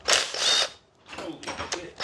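An old Ryobi power tool works on a dead Mazda RX-8 rotary engine in a garage, giving two bursts of loud, close whirring and rattling separated by a short pause.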